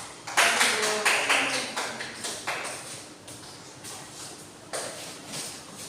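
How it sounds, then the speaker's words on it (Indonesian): Classmates in a classroom applaud group 3: a short run of fairly quiet, evenly spaced claps that thin out and then return once before stopping. "kita berikan aplaus"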